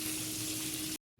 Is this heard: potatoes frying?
yes